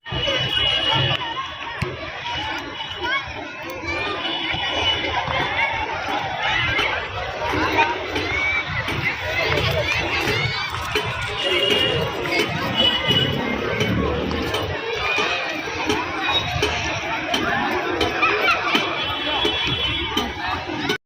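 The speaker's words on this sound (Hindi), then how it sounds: "दोस्तों भीड़ बहुत ज़्यादा है खाटू श्याम पार्क में, बहुत ज़्यादा भीड़ है" A dense crowd chatters and murmurs at Shree Khatu Shyam Park in Modband near the Badarpur border, a steady babble of many voices with occasional shouts rising out of it throughout.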